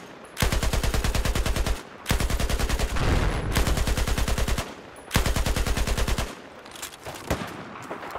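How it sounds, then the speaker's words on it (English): Bursts of automatic gunfire in Battlefield 4 aimed at suppressing a sniper: three long, loud rapid-fire volleys with short gaps between them, then scattered single shots and fading clatter. "I'm just gonna suppress the sniper as much as I can."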